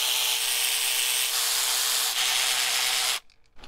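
Bolts with 8 mm heads being run out of the coolant outlet on a Ford Duratec 2.0L engine, a steady high buzzing whir from a power driver for about three seconds, then a stop with small handling noises.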